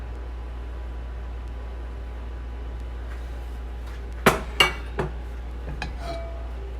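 A spoon rapped against a pan to knock off clinging ginger and garlic while stir-frying Szechuan green beans: a quiet hum, then a quick burst of three or four sharp metallic knocks followed by lighter clinks.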